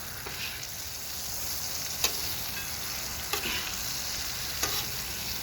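Butter melting on a hot griddle gives a steady, dense sizzle that holds at an even level, broken by a few faint scraping ticks from a utensil, with no talking.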